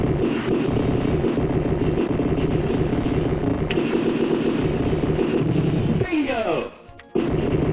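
Buffalo explode in the arcade video game Smash TV amid a loud, constant wash of rapid gunfire and blasts, with a rush of sweeping noise and a brief drop-out near the end, while a voice talks.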